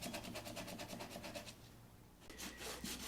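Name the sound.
sanding wooden rifle stock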